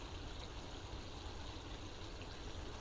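Pond water recirculating through a pump line, a faint, steady, even wash of running water with no breaks.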